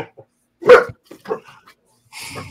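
Dogs bark in a short burst between stretches of people talking, with one loud bark standing out near the start and fainter yips following.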